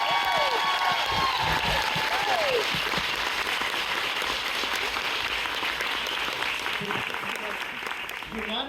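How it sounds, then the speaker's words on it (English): A crowd at a book event in Harrisburg gives loud, sustained applause for thriller and horror authors Ruth Ware and Riley Sager, dense clapping filling the room with a few voices and cheers mixed in. "please join me in giving them a warm round of applause"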